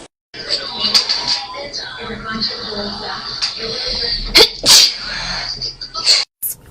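A person sneezes sharply amid ambient chatter in a busy café setting, with short, loud bursts standing out over background voices.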